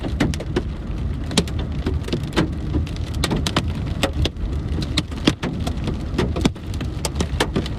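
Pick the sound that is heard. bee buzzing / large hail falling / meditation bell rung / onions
large hail falling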